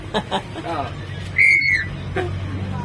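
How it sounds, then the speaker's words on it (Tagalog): A short, high-pitched whistle from a whistle fitted to a vehicle's brake sounds once amid background chatter and a low hum, moderately loud and close. "Alagyan natin sipol yung preno mo. Para maganda."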